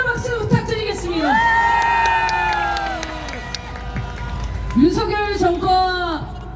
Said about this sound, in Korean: 고상만 선생님께 다시 한번 박수 부탁드리겠습니다